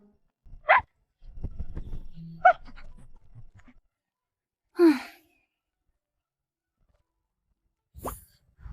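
A small cartoon dog gives a few short, separate barks and whimpers, spaced out with quiet gaps between them.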